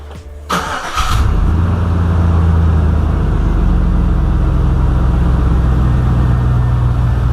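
A car engine cranks and starts after throttle body cleaning, a short burst of starter noise followed by a loud, steady idle that runs close and alone.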